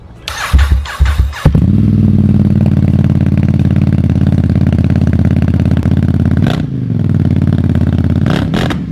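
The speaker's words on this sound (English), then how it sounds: "So I thought I'd give you guys a little cold start of the Terminioni titanium exhaust system." A Ducati XDiavel motorcycle with a Termignoni titanium exhaust cranks and catches on a cold start, then settles into a loud, deep, rumbling idle with a couple of sharp revs near the end.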